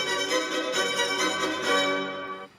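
Full orchestra playing a brief comic opera-buffa half cadence from Mozart's Jupiter Symphony, dense sustained chords and lively motion, loud and steady before tapering off at the end.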